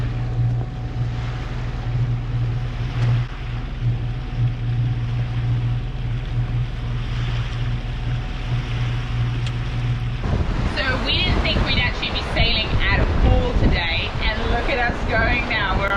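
Sailboat heeled hard at about 6.5 knots in 14–15 knots of true wind, a steady roar of wind and rushing water with a low hum, then a voice talking over the rush in the second half.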